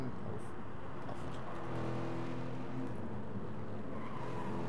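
A race car slides briefly over a gravel trap in a racing game set at Lago Maggiore, with steady engine drone and a rough skidding crunch throughout, fairly faint, with voices murmuring underneath.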